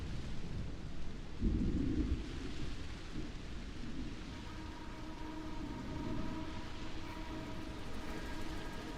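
Steady, dense rain wash in the video game Starfield, with a deep rumbling low end throughout, joined later by a faint sustained hum; no voices.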